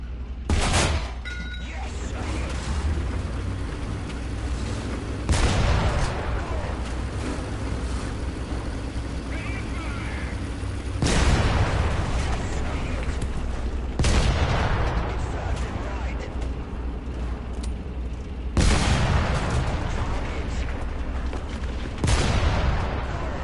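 A PS4 shooter has gunfire pumped into a fuel tank, with loud booming shots spaced several seconds apart over a steady rumbling background while someone talks.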